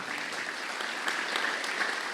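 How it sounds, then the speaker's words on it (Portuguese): A church congregation applauds a pastor, a brief burst of dense, even clapping at moderate loudness. "Salva de palmas, pastor Fernando Borges."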